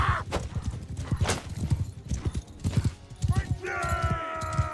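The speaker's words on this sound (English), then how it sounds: "It's a sumpter horse that we are riding" Horse hooves clip-clopping in a steady galloping rhythm as a sumpter cargo horse is ridden in the video game Mount and Blade 2 Bannerlord, with a short whinny near the end and a voice talking over it.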